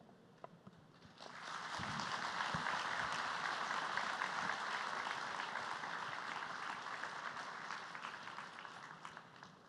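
A large audience at the Cypher 2 event breaks into loud, sustained applause for tennis player Leander Paes, building after a quiet start and continuing steadily.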